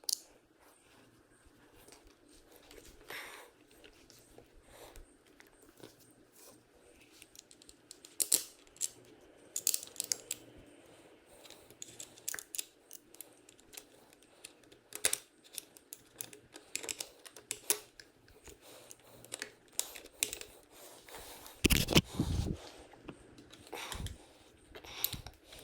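T25 Torx bolts being threaded into the handlebar switch housing of a Harley-Davidson Sportster 48, giving scattered small metallic clicks and taps at close range, irregular and fairly faint over a quiet background.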